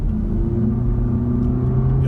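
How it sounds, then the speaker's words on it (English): Exhaust growl from a Volvo V60 Polestar in sport mode, a steady, loud, snarly drone heard from inside the car on the road. "There's a real growl in there to that exhaust."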